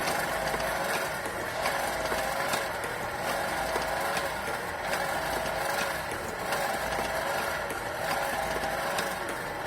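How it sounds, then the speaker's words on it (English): A shaper machine's quick return motion mechanism runs on automatic feed, driven by a motor turning a small pinion and bull gear, giving a steady, dense mechanical whir with faint repeating ticks and clanks throughout. "Now let's see how quick return motion mechanism is operating."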